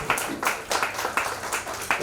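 Clapping from a crowd at a college reunion, applauding Shakuntalaben: a brief burst of rhythmic, fairly close claps, repeated evenly over two seconds.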